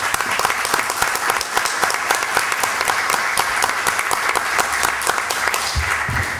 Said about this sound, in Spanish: voy a pedir un aplauso fuerte por nuestra Municipalidad de Miraflores